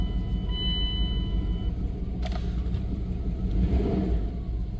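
A 1999 Dodge Durango SLT that sat abandoned for 14 years idles steadily up close, its continuous low engine drone loud and even, with a faint whine and a few brief clicks partway through.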